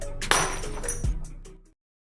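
A glass-breaking sound effect opens with a sharp loud smash, then a shower of tinkling shards that rings on for about a second before cutting off abruptly into silence.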